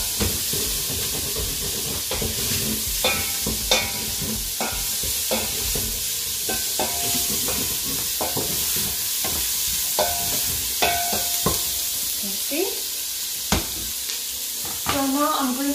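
Onions sizzling and frying in a pan for a Kenyan pork ribs dish, with steady hiss and repeated stirring scrapes and clinks close by, no talking.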